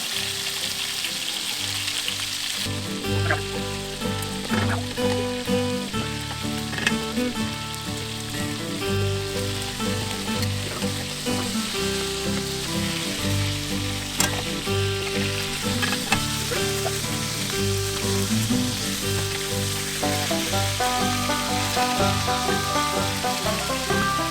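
Meat fries in a pan with onions and garlic, giving a steady, close crackling sizzle. Occasional stirring clatters over it, and there is no talking.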